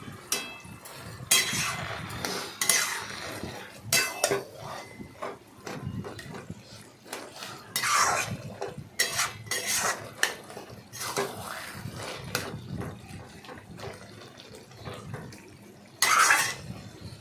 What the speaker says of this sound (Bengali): চিনি দিয়ে এদিকে ওদিকে নাড়াচাড়া করলাম